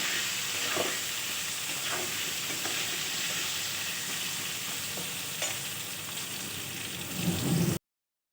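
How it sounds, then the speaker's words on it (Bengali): Aar fish frying in hot oil with turmeric, a steady close sizzle and hiss throughout with a few faint clicks of stirring, ending abruptly. "হলুদ দিয়ে ভেজে নিই।"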